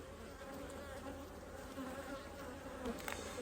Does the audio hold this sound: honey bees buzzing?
yes